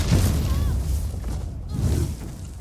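Deep, rumbling booms from spell and combat explosions in the online fantasy game Elder Scrolls Online roll out in two heavy low swells, loud and continuous, with a whooshing sweep between them.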